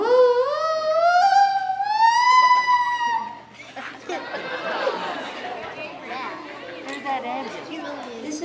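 A person vocally imitates a fire truck siren at an open mic, voicing a loud rising-and-falling wail for about three seconds before it gives way to audience chatter.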